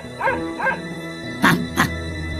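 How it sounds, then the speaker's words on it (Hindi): A cartoon dog barking in a jungle animal story, two short whining yips followed by two louder, sharper barks, close and clear with no talking. "कुत्ता भौंक भौंक कर दोनों की लड़ाई बंद कराने की कोशिश करता है।"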